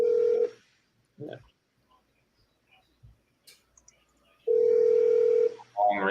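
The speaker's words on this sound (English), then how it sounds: "Long ringtone." Long telephone ringtone on an outreach call, with two sustained ring tones separated by a quiet pause and a few faint clicks between them. A brief further sound follows at the end.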